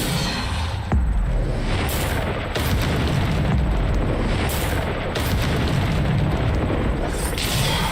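The Bombarda explosion spell booms again and again in Hogwarts Legacy, its dense, heavy blasts and bursts layered over constant game noise, with sharp hits near the start and in the middle.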